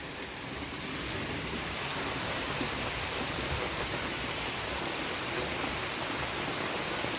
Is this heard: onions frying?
no